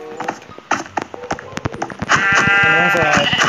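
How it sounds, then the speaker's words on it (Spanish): Sheep bleats from a video game capture-the-sheep minigame, several wavering calls in quick succession with a long sustained bleat near the end, heard amid clicks and game noise. "¿Dónde está la oveja? Ahí está."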